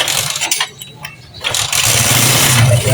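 A motorcycle engine cranks with sputtering, uneven bursts, drops away briefly, then catches and settles into a loud, steady running rumble close by.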